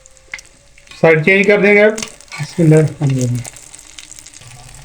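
Chicken shami kebabs fry in a pan with a steady, close sizzle that runs throughout, while a voice speaks over it for a few seconds.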